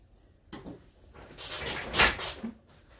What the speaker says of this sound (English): you're hearing my chair make all kinds of noises here